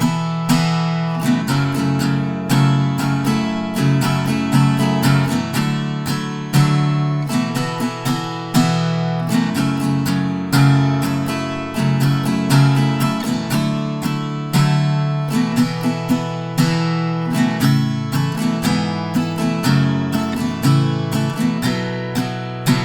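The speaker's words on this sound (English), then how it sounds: "And altogether, the pre-chorus will sound like this." An acoustic guitar plays the pre-chorus of a song, strummed in a steady, driving rhythm through changing chords. It sounds close and full, played alone with no voice.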